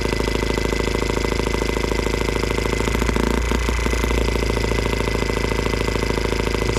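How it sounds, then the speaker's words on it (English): An M12B engine running on alternative fuel idles high and steady, with a close, loud, even mechanical drone and faint rhythmic knocking that shifts briefly midway. "the idle seems much higher"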